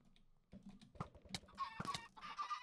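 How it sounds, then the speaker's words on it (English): A chicken clucks in a Minecraft Skywars match, several short clucks mixed with clicks and other game sounds at moderate level, with no talk. "A chicken?"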